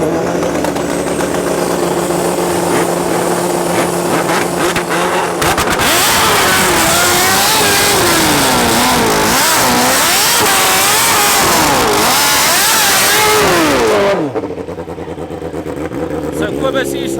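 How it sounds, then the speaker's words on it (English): A turbocharged Suzuki Hayabusa makes a solo drag racing run at a raceway, loud engine revving with rising and falling pitch as it launches and pulls away, an announcer talking over it before it fades. "Next up, we got Jaco on his turbo Busa. He's gonna do a solo run."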